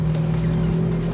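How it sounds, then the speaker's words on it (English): A modded Ferrari F8 Spider's turbo engine exhaust, cruising with the top down, holds a steady, thick, low drone up close with no speech over it. "To be honest, I really like the sound of this turbo car"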